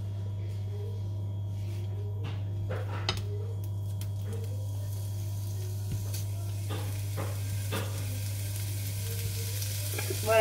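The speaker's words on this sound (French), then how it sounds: "je vais mettre mes steaks à cuire" Steaks frying in a pan, a steady sizzle running through the whole stretch with occasional utensil clicks and scrapes over a constant low hum, fairly quiet and without talk.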